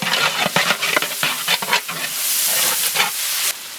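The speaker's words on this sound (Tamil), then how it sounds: "மல்லி புதினா கருவேப்பிலை எல்லாம் நல்லா வதங்கிருச்சு." Coriander, mint and curry leaves sauté in a hot pan for veg biryani, with a close, busy sizzle broken by repeated scraping stirs of a spoon, the frying hiss swelling toward the end.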